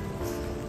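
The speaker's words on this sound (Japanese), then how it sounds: "雨雨雨雨" Rain falls steadily outdoors, a brief, dense, even hiss of drops at moderate loudness with no voices.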